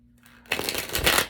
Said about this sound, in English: Need to shuffle.